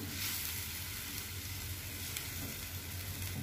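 Meat and tempeh fry in a pan, giving a steady, close, continuous sizzle with crackling spatter throughout and no voices.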